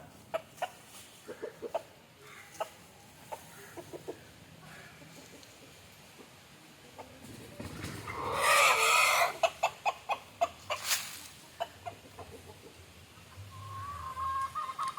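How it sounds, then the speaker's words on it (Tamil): A white rooster clucks in a farmyard chicken coop: scattered sharp clucks, then a louder close burst of calls near the middle, followed by a run of evenly spaced clucks over a steady outdoor background. "இந்த சேவலை பாருங்க, வெள்ளை சேவல்"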